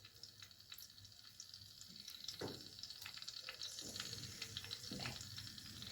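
Liver hitting a very hot pan gives a steady close hiss and crackle of frying, moderately quiet and continuous with a few soft splashy bursts, and no talking.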